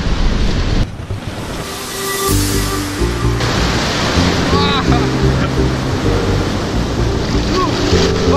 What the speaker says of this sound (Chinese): 看那海浪多大！